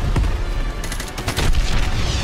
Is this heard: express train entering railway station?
no